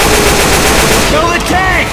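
Sustained rapid gunfire aimed at the Tank in Left 4 Dead 2, a dense continuous rattle of automatic shots filling the whole stretch, loud and close in a mall setting.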